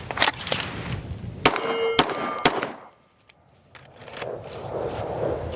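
Sharp metallic clangs of bullets striking a steel target post at a shooting range with a Shadow Systems DR920 Elite pistol, several loud rings in quick succession followed by a brief lull and fainter noise.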